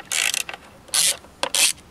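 Ratchet wrench working loose the ignition mounting bolts on a Chinese GY6 139QMB scooter, three short bursts of rapid metallic clicking separated by brief pauses, close and fairly loud.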